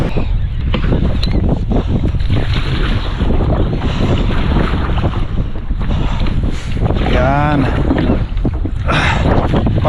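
Kayak paddling across rough, wave-tossed water in strong wind in Edmonton, Alberta, with loud, constant wind buffeting the microphone, splashing water and occasional voices.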